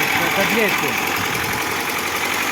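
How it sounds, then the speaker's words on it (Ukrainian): A VAZ 2109 car engine idles steadily with a rough, rumbling tone, close by, while a voice speaks briefly over it. "Спільними зусиллями ми завели дев'ятку."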